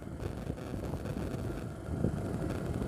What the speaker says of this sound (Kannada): ಒಳ್ಳೆ ಗಾಳಿ ಬೀಸ್ತಾ ಇದೆ ತಂಪಾಗಿ.